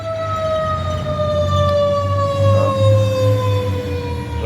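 Fire engine siren wailing outside with a steady, slowly falling tone, fairly loud and continuous beneath a low rumble of traffic, no talking.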